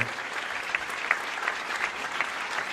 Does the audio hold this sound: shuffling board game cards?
no